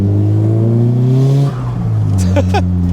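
A Nissan S15 Silvia engine revs hard and steady, then drops and rises again with a sharp throttle blip, loud and close, with no talking.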